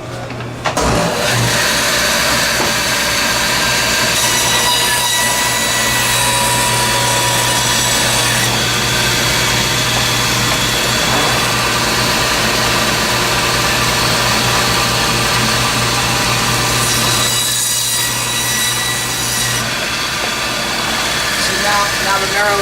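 A bandsaw cuts through a veal shank and its bone for osso buco at a butcher shop, giving a steady loud motor hum and grinding buzz that runs throughout, with people speaking over it.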